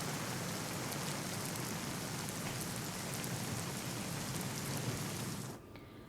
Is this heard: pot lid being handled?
no